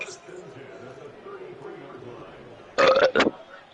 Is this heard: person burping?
yes